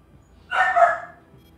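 A single short dog bark or yip close to the microphone, one burst lasting about half a second, heard alone with no talk.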